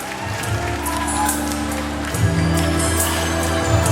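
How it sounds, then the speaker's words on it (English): A pageant audience applauds the top five contestants with steady, moderately loud clapping and crowd noise that swells slightly partway through and keeps going. "a big round of applause for all the top 5"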